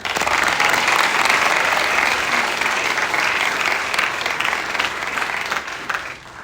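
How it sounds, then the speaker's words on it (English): A graduating high school class applauds at its Class of 2025 commencement, dense sustained clapping from a large crowd that slowly thins and fades toward the end. "So give yourselves a round of applause."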